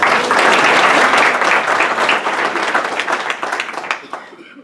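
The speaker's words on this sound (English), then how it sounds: "Give her a round of applause." An audience applauds at a business community meeting, dense clapping starting strong and steady, then thinning and tapering off toward the end.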